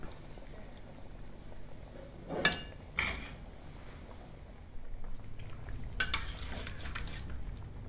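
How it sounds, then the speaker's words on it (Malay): Tomato biryani gravy cooks in a pot, a soft simmer and bubbling broken by a few sharp clanks of a spoon against the pot, then quieter stirring sounds. "Ni kuah biryani ni, kita masak dia sampai dia kering ya."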